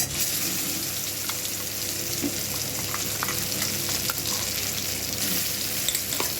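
Dried chilli, black cumin and a spice paste sizzle in hot oil, a steady close frying hiss with small crackles and occasional stirring scrapes throughout.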